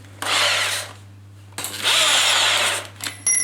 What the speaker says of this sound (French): Ok, donc j'ai terminé de percer.